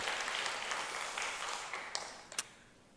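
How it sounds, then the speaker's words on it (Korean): A church congregation applauds during a Wednesday worship service, a dense, bright wash of many hands clapping that fades over a few seconds and ends in a few scattered claps. "우리 하나님께 감사의 박수를 올려드리겠습니다."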